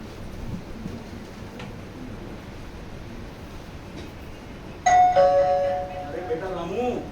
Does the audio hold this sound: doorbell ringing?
yes